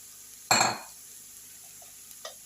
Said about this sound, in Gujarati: હવે એમાં નાખી દઈશું રોટલો